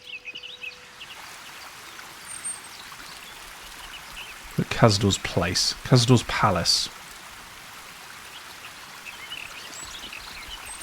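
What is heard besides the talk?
waterfall in video game Baldur's Gate 3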